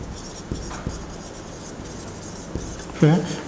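Writing on a board during a physics lesson: faint intermittent scratches and taps from the writing tool, with a person talking over them.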